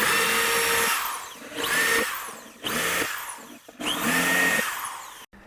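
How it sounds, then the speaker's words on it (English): A power drill whines at high speed in four separate bursts as it bores center holes into a curved seat, with short pauses between each hole. "now I'm going to drill a hole in each one of these centers"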